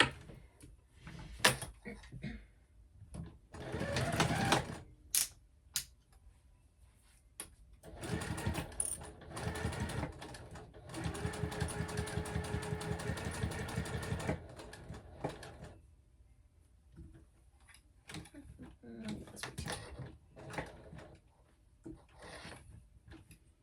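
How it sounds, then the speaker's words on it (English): A sewing machine stitches a Penny Clutch seam at a half-inch allowance, running in a few steady bursts of rapid stitching with pauses between, close and moderately loud, with light handling clicks around them. "we're sewing at the 1/2 inch seam allowance"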